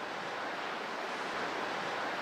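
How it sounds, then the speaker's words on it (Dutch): Sea waves on a Spanish coast wash in the background as a steady, soft broadband surf hiss with no distinct breaks and no voices. "En ondertussen horen de mensen de zee wel op de achtergrond."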